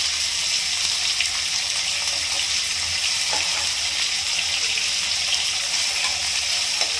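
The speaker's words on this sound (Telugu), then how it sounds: "ఇలా ఎండుమిరపకాయలు వేసిన తర్వాత కొద్దిగా వేగాలండి" Dry red chillies fry in hot oil for a Telugu amaranth-leaf dish, giving a steady, close broadband sizzle that runs unbroken throughout with faint crackles and no talk.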